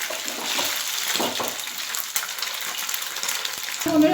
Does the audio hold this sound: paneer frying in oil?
yes